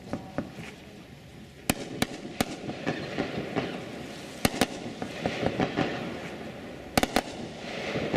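A fireworks demonstration of consumer shells and cakes, heard as a rapid crackling barrage of pops and sharp bangs, with several loud reports standing out over continuous sizzling, moderately distant outdoors, with no voices.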